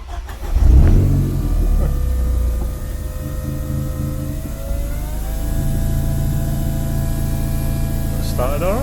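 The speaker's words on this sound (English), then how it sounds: "let's get in the cab and start it." A vehicle engine, fuel primed and started from the cab, cranks briefly, catches, and settles into a loud, steady run close by, with a gradual rise in revs partway through.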